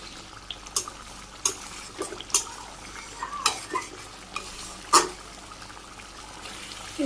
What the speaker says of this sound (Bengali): জিরের গুঁড়ে ভালো করে মিশিয়ে দিই